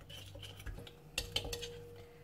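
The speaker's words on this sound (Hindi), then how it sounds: "सारा मसाला मिक्स कर दिया।" Masala being mixed in a bowl for fried chicken, with soft clinks and scrapes of a utensil against the bowl, close and quiet, in a short burst of irregular taps.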